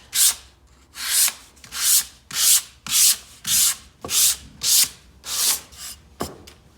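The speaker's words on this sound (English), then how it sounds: "So just give it a nice light sand." Sandpaper is rubbed lightly over a painted wood kit surface in about ten even, rhythmic strokes, each a close, soft scratchy swish with brief pauses between.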